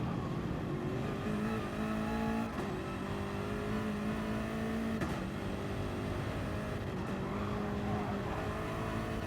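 Race car engine lapping the Nurburgring in a Gran Turismo-style Gr3 racing game, a loud steady drone with pitch rising and dropping through gear shifts and throttle lifts, continuous and close throughout.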